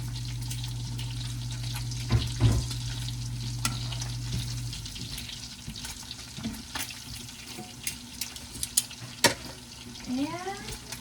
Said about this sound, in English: Flip this bacon